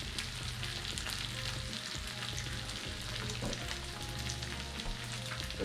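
A fresh egg fries in a cast iron pan alongside sisig, giving a loud, continuous crackling sizzle with steady popping and spattering, close and alone throughout.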